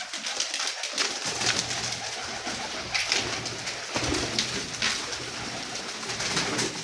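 Teddy pigeons cooing in a loft, soft repeated low coos under a steady hiss of background noise, with no voices.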